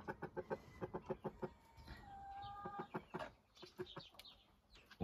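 Hens and a rooster in a Slovak farmyard cluck in a steady run of short, close calls, with a few longer drawn-out crowing-like notes in the middle.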